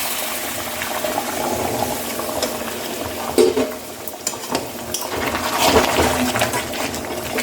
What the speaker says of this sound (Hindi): ये गर्म पानी जो है अब इसमें मैं डाल देती हूँ पकने के लिए